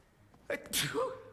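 A single sudden sneeze, close by, with a sharp breathy burst and a short trailing exhale.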